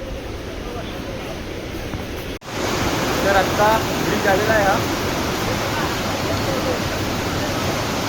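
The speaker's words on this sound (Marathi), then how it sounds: "मंदाकिनी नदी बघा, काय प्रेशर आहे." Swift, high-pressure Mandakini river water rushes steadily and loudly along the Kedarnath trek route in 2025. The broad, constant roar is close and fills the whole clip, and someone speaks over it.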